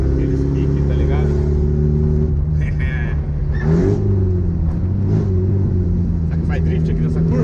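A Chevrolet Chevette engine drones loud and close while the car is driven through a curve, with a brief rev midway and people talking over the steady motor.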